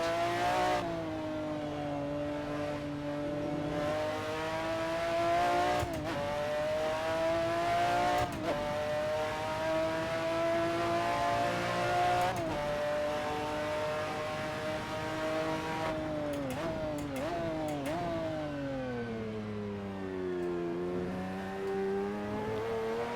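McLaren F1 GTR race car in Assetto Corsa at the Nurburgring, its engine droning loud and steady throughout, pitch rising and falling through gear changes with sharp shifts and revs climbing under acceleration.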